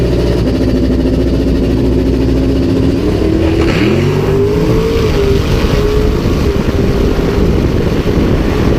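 A car engine roars steadily in a drag racing video game, with the pitch climbing as the throttle is worked partway through. The sound is loud and constant throughout, with no talking.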